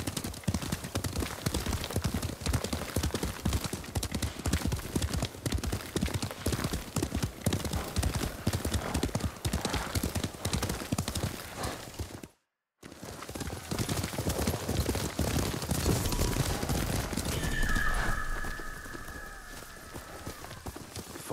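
Horses gallop in the samurai video game Ghost of Tsushima, a steady, loud clip-clop of hooves running throughout, broken by one brief gap, with a whinny and scattered battle sounds near the end.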